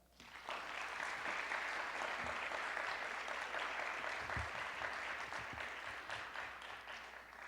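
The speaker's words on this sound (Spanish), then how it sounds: "Para ambas pido un fuerte aplauso." A conference audience at ITAM applauds two speakers, Denise Dresser and Marta Lamas, with sustained, even clapping that starts abruptly and holds for several seconds before easing slightly.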